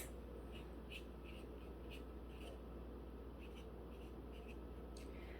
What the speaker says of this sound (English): Write their name on there.